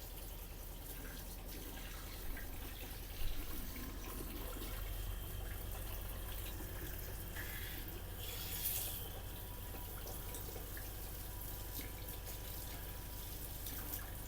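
Hot water runs steadily from a tap fed by a tankless water heater, a continuous hiss and splash with small bumps as the flow shifts and no talking.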